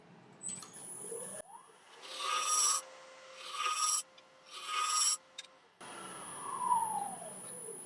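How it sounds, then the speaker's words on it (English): A small round nose scraper refines an Irish walnut platter spinning on a woodturning lathe, giving three or four short bursts of hissy, rasping cutting over a steady motor whine, close and moderately loud. "grab a little round nose scraper, just to refine that last little bit"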